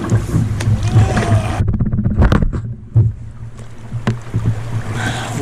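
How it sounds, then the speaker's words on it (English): Canoe paddle strokes on a lake after rain, with water swishing and dripping close by against a steady low hum of wind or boat noise, a few sharper splashes standing out. "I was paddling with my canoe paddle."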